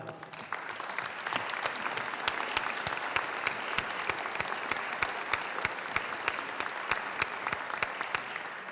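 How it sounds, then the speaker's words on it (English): Sustained applause from a crowd at a hospital public forum, many hands clapping steadily at an even level throughout, with no voices standing out. "that deserves a round of applause"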